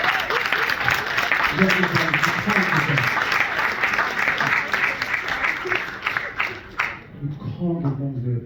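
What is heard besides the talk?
audience applause at poetry event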